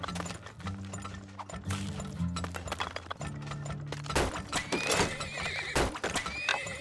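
Horses in the video game Turmoil whinny and neigh repeatedly over a looping game music bed, with clip-clopping hooves and a busy, layered mix throughout.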